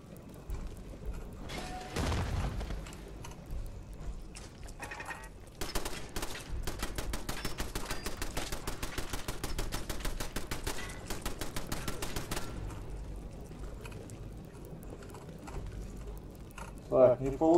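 Rapid machine gun fire in the video game Fallout 4, a long sustained burst of dense rattling shots lasting several seconds, preceded by a few scattered bangs and mechanical clicks, with quieter sounds trailing after.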